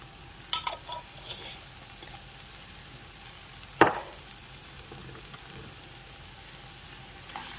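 Peppers and onions frying in a pan give a faint, steady sizzle throughout, with a few brief clinks and scrapes from stirring, and no one speaking.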